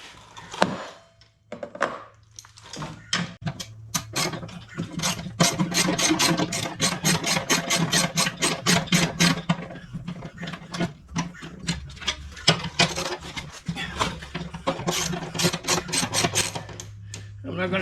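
A wrench works loose the bolts on a John Deere X350 lawn tractor during belt replacement, giving rapid close-up ratcheting clicks in bursts, with brief pauses between runs of turning.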